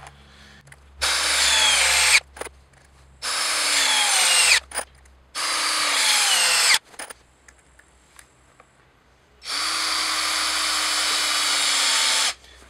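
A Hitachi DV18DCL2 cordless drill whines loudly in several long bursts with brief pauses between, straining as it bores into a block of hardwood, with a sharp crack or two of the wood in the gaps.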